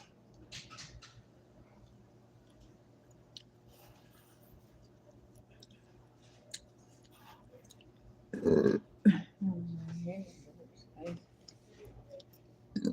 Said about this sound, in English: Listen, nasty ass burps going on.